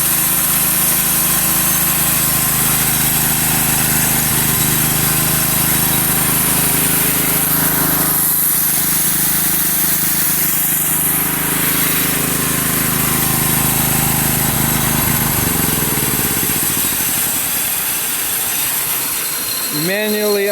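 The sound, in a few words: portable sawmill John Deere engine starting and running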